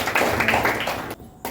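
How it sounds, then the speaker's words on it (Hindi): An audience claps in a hall for a few seconds, dense overlapping hand claps that drop off abruptly, then one more brief burst. "ताली बजा दीजिए।"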